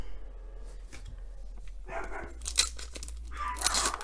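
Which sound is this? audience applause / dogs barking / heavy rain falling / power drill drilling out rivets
dogs barking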